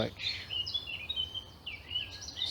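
Birds chirp and trill continuously at high pitch, fairly close, in a park on a morning stroll, over a low background rumble of traffic; a voice is briefly audible at the very start.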